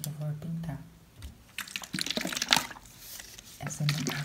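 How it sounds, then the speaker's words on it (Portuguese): Water poured into a small container used for rinsing paint brushes, a light splashing trickle with drips and bubbling that comes and goes over a few seconds, close and soft, with faint background sounds. "Aqui dentro eu vou colocar água."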